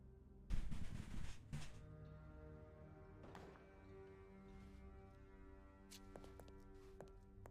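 A rapid burst of gunfire crackles early on, followed by a few fainter distant pops and ticks over a low hum.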